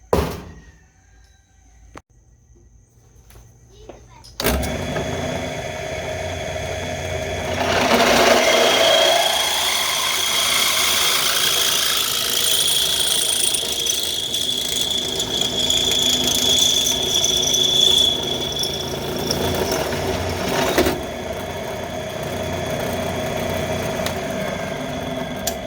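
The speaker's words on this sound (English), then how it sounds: "drill this hole out to 12mm." A power drill whines steadily for a long stretch after a quiet start, its pitch shifting as the bit cuts a hole in metal out to 12mm, with a brief knock near the end.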